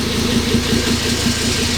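Turbocharged 07K five-cylinder engine swapped into a Porsche 944, idling through a full 3.5-inch exhaust with a Magnaflow muffler; a steady, fairly loud low rumble runs unbroken and close by, with no talk.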